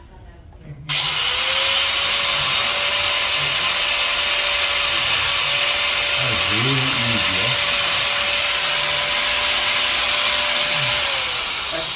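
A Manpa power carving tool starts with a click and then runs with a loud, steady high-pitched whine as it cuts wood, the pitch dipping briefly midway under load.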